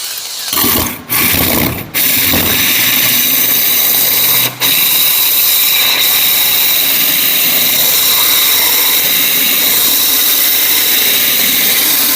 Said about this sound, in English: Rotate the drill. You don't want the diamonds full contact at all times.